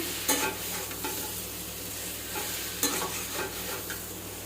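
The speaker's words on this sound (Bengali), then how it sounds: "মাছটা ভাজা হয়েছে" Fish fries in a pan with a steady hiss of sizzling oil, broken by a few scraping stirs of a utensil, close and continuous with no talking.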